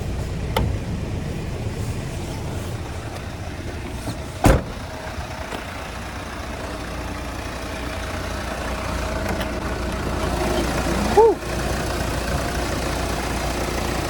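A 2014 Mercedes-Benz Sprinter 2500 conversion van with a BlueTec 2.1 twin-turbo four-cylinder engine idles with a steady low hum. Two brief sharp clicks stand out over the smooth, unchanging drone.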